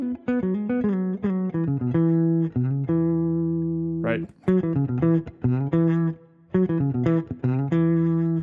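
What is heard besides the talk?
guitar playing a pentatonic pattern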